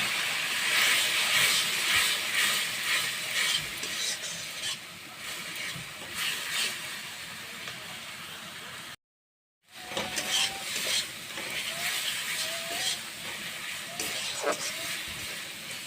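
Spice paste sizzles and hisses steadily in a pan after water is added, with a soft stirring scrape and a brief gap partway through.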